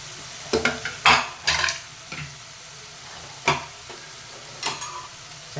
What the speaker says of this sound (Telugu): ఇప్పుడు మటన్ వేసుకున్నాము